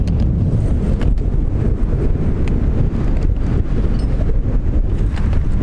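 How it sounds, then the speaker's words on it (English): Gusty wind buffets the microphone on an open ranch during barbed wire fence installation, a loud, continuous low rumble with steady roaring texture and no voices. "Told you it's a little windy."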